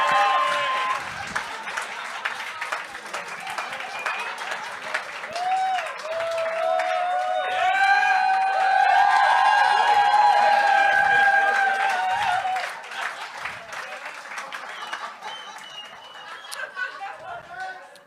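An audience applauds at a 2023 horse racing event, a sustained swell of clapping with cheers, laughter and crowd chatter mixed in, peaking midway before easing off.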